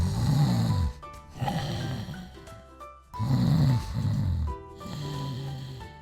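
A wolf in bed snores loudly in slow, deep cycles, with rasping inhales and rumbling exhales repeating about four times, close and with no talking; the snoring sounds voiced or cartoonish.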